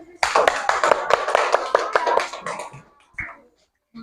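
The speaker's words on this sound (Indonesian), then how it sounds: "Beri tepuk tangan untuk kelompok menit" Classroom applause for a student group about to present, a brief burst of close, uneven hand claps from a small group lasting a few seconds, then fading to a couple of stray claps and a short voice.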